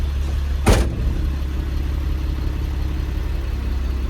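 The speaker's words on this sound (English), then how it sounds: "Now I'm going to make sure my truck brake is engaged. I'm going to tug against my truck brake." A truck engine idles with a steady low rumble while pulling against its engaged brake, with one brief sharp hiss or clunk near the start.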